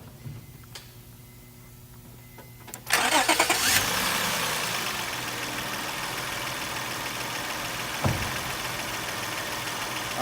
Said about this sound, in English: All right, so we got the engine running